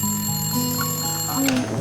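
A telephone rings indoors in a home, a steady electronic bell tone held briefly with faint voices and room sound around it.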